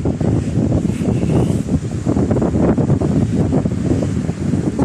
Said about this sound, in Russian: Ох, какой ветер!